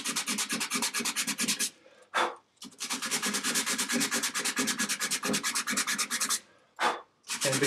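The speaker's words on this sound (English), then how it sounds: "And then I just want to use a little piece of sandpaper." A small piece of sandpaper rubs back and forth along painted wood grain in rapid, even strokes, close and steady, pausing briefly twice before resuming, with no voices.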